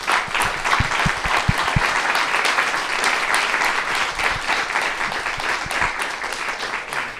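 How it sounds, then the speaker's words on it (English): An audience gives sustained applause for two speakers at the close of a talk on creators and the climate emergency, a steady, full wash of clapping from a sizable crowd throughout. "A round of applause for our two speakers"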